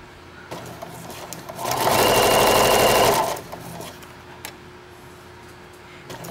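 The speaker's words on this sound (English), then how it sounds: "so we'll just stitch along, and I'll speed through the rest of this" Sewing machine running fast for about two seconds as it stitches a former placemat into a tote bag, a loud steady whirring burst set between quieter stretches of light handling and faint clicks.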